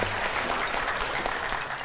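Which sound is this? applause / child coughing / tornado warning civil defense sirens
applause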